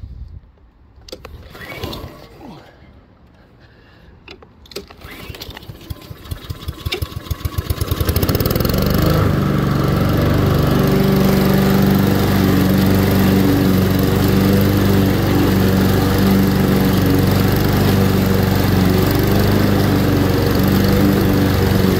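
Two walk-behind lawn mowers, an EGO 56-volt battery Select Cut XP and a gas Honda HRX217, both set to 2.5-inch cut height, running together in a loud continuous drone with a steady engine hum and whirring blades, preceded by rustling.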